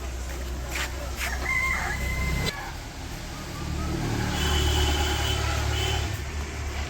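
In a Bangladeshi village in the morning, a rooster crows once at moderate distance over a steady low rumble of passing traffic and outdoor background noise.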